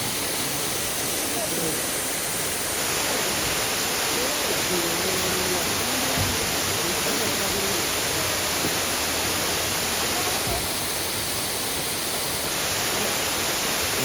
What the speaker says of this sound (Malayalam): വെള്ളച്ചാട്ടം ഇതെവിടെ